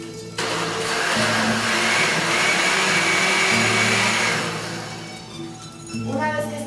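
A blender whirs steadily as it purees fresh cilantro with coarse grain salt for cilantro rice, a loud continuous motor drone that runs several seconds, dips briefly, then winds down and restarts.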